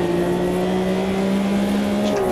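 A race car engine in the Automobilista 2 racing game pulls hard under acceleration, a loud sustained drone with a slowly rising pitch and a brief shift near the end.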